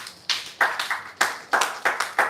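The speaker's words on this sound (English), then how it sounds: "Clap for network marketing business here." An audience at a live network marketing business event claps together in a steady rhythm, about seven sharp, evenly spaced claps over a couple of seconds, close and fairly loud with no talk.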